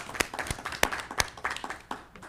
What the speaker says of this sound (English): So I just want to applaud you all for the work that you're doing in our community